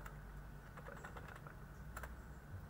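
Computer keyboard typing while working in a terminal on a MikroTik router setup, a faint scattered run of key clicks over steady background hum, no one talking.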